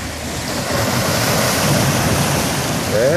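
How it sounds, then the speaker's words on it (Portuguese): Sea waves washing onto a beach at night make a steady, continuous roar of surf with a constant wash, close and fairly loud, with no voices over it. "É o mar, som natural,"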